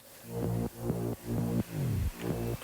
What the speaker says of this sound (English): this is actually a Reese bass